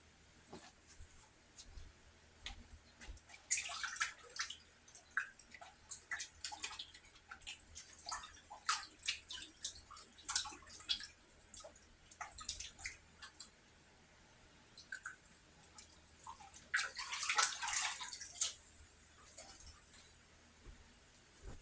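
Tap water runs in irregular splashing bursts as sticky hamburger bun dough is rinsed off hands, close and moderately loud, with quiet gaps between the washes.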